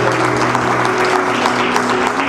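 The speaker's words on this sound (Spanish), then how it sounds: "denle un aplauso a Él." Church congregation applauding during a Spanish-language sermon, a steady, dense wash of clapping with a sustained musical tone underneath, loud and continuous throughout.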